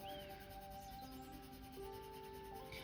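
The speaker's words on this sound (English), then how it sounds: "I'm just going to begin to burnish this sort of pinky area a little bit more" A Pablo Granite Rose colour pencil burnishes paper with a faint continuous rubbing and scratching, close and quiet with no voices.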